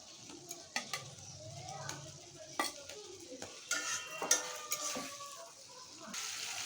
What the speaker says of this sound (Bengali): এখন আমি আলুটা মশলার সাথে একটু কষিয়ে নেব